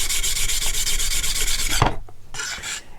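The back face of a blade is polished on a wet sharpening stone, a close, bright rasping rub in rapid even strokes, then a brief knock and a pause before the rubbing resumes more lightly.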